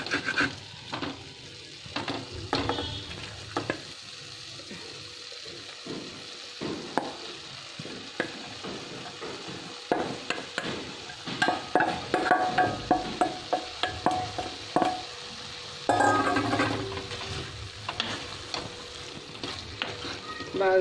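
Cooked rice being stirred and tossed in a pan for oil-free egg fried rice, with repeated scraping and rubbing strokes over a steady low sizzle, close and fairly loud, with busier clattering bursts near the end.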